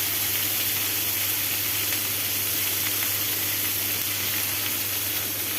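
Ginger, garlic, onion and spices frying in a pan for a chickpea dish, giving a steady, close, broadband sizzle with a constant low hum underneath and no talking.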